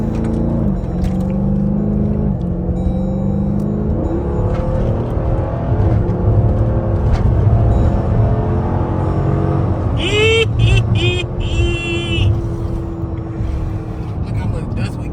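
A Dodge SRT with a mid muffler delete rumbles loudly as it downshifts and revs, engine pitch sliding up and down with a sharp rev burst and crackle late on, voices talking over the exhaust.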